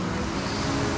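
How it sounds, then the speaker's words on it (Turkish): A creek flows through a highland plateau valley, producing a steady, broadband rushing wash that stays even and fairly close for the whole moment, with no voices. "Şu derenin sesi,"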